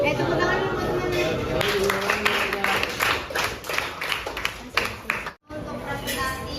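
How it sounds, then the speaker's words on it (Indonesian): Classroom applause after a group presentation in a school setting, with scattered hand claps over a background of chatter and voices, fairly close and continuous, briefly cutting out near the end. "Tepuk tangan dulu teman-teman"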